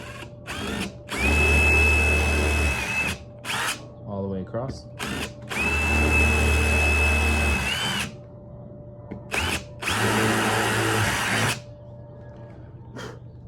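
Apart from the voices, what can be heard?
power drill drilling holes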